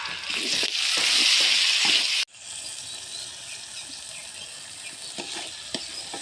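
Nigella seeds, bay leaf, dried chili and garlic paste frying in oil with onion, a loud hissing sizzle that drops sharply partway through and then settles into a softer steady crackle with light stirring.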